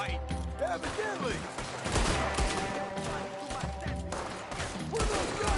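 Gunfire in the video game Red Dead Redemption 2: a dense, rapid fusillade of shots cracking one after another for several seconds, loud and close, over a busy game soundscape.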